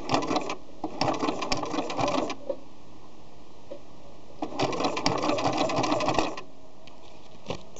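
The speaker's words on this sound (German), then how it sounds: "Wenn ich jetzt nähe" Sewing machine stitching a reinforcement for a buttonhole on curtain fabric, two loud bursts of rapid rhythmic needle chatter separated by a quieter pause with a few clicks.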